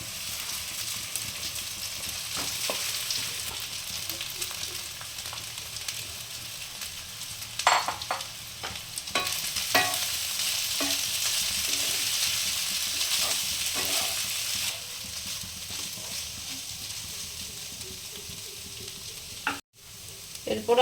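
Flattened rice (poha) fries in a pan with a continuous close sizzle, broken by scraping, clattering stirring strokes. There is a sharp knock near the end and no talking.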